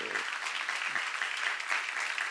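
A seminar audience claps in steady, moderately loud applause that continues for the whole stretch.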